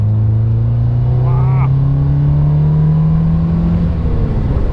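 A 2017 Morgan 4/4 accelerates close by, its engine note climbing smoothly in a steady, rising drone, with a voice faintly present beneath it.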